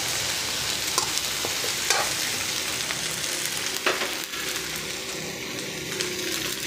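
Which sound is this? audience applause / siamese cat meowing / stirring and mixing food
stirring and mixing food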